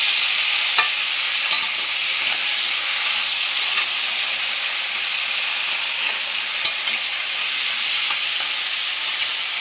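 Mixed vegetables with salt fry in a pan, a loud dense continuous hiss and sizzle with faint occasional stirring clicks, steady from start to finish.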